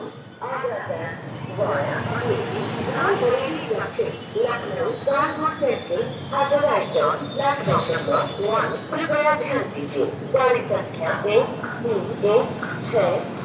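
The Kolkata–Agra Cantt superfast express pulls into a station, its wheels squealing and rumbling under a man's steady, close narration, with a station announcement and crowd noise behind.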